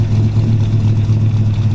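A 1940 Ford all-steel pickup with a Ford 351 V8 and a C6 transmission runs at a steady idle, a loud, low, continuous engine rumble heard up close with no talk.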